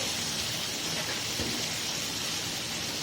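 Masala kaleji fries on a tawa over a medium-low flame, giving a steady, dense sizzle, close and even, like light rain, with no voices.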